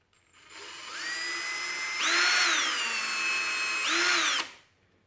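A power drill with a 2mm bit boring through a part for a Gotek drive mod, a steady high whine that rises in pitch and loudness as the bit bites, dips, surges again, then stops.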